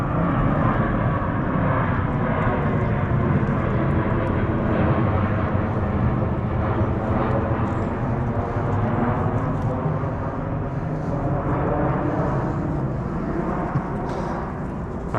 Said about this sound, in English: Plane's messing me up again.